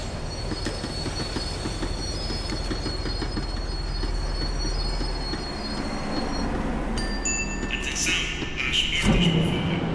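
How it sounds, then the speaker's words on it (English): Tram slowing down in the video game Max Payne 3, with a loud, continuous rail rumble and screeching wheel squeals. Clatter and metallic tones shift near the end as it brakes, and there is no speech. "The tram was slowing down."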